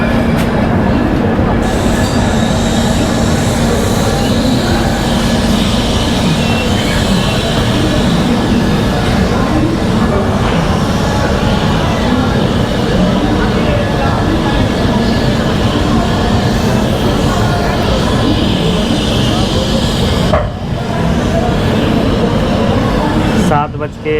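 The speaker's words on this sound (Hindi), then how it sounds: "सात बज के 10 हो गए हैं और ट्रेन बिल्कुल राइट टाइम पे दिल्ली से निकल गई है।" The Sogaria Intercity Superfast Express departs New Delhi with a loud, continuous rail rumble, the rhythmic clatter of wheels over track joints, and a thin wheel squeal running through it.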